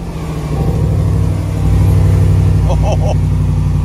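A Range Rover's engine turns over and settles into a loud, steady idle, then rises in a revving surge close by, with a brief chime near the end.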